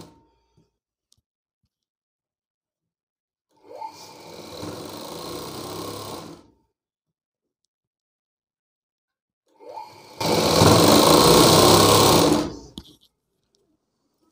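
A sewing machine stitches cloth for a bag made from a school uniform coat, running in two steady bursts of about three seconds each, the second louder, with silence between and no talking.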